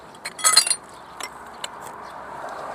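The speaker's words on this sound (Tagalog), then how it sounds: "ang dami oh grabe ang dami mga baso naman to" Drinking glasses pulled from a dumpster clink together in a quick bright cluster, followed by a few fainter isolated chinks against a low background hum.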